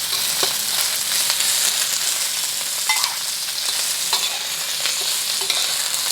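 Shrimp and garlic fry in hot oil in a pan while being stirred, giving a steady loud sizzle with scraping stir sounds and a few sharper clicks, with no voices.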